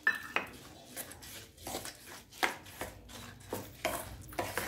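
A utensil clinks and scrapes against a pot while raw mango panha ingredients are mixed, making a series of sharp, irregular taps close by in a quiet kitchen.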